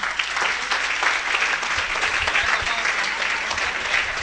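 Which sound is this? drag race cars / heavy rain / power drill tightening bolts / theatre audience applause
theatre audience applause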